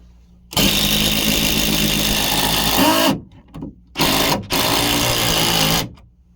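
A power drill drives a screw upward into a floor from underneath to patch a hole, running in loud sustained bursts with brief stops between, close and with no talk.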